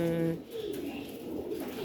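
Jacobin pigeons coo in low, soft, rolling calls, close by, with a faint voice murmuring in the background.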